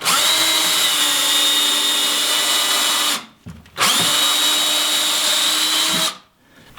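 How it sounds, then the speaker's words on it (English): Power drill boring pilot holes for screws into a wooden block: two sustained, loud whirring runs of about three seconds each, separated by a brief pause, with no talking. "Now I'm going to put some pilot holes into this block here for some screws"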